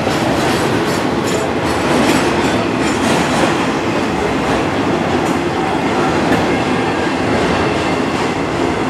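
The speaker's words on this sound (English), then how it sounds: "And good grief, we still have a long piece of train." A long, slow Norfolk Southern freight train with autoracks and mixed cars from other railroads rolls past at Spartanburg, South Carolina, giving a loud, close, continuous rumble with clattering wheels and no talk.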